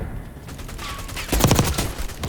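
Gunfire in the shooter game Black Ops 6: a short, loud burst of rapid shots in the middle of the clip over quieter game ambience, with no voices.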